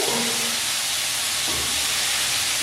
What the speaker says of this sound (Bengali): কেটে রাখা আলুগুলো দিয়ে দেবো।